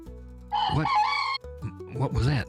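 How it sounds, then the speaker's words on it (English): A rooster crows at dawn on a rural Alabama property, two loud, close calls with rising and falling harmonics separated by a brief gap. "That's the rooster."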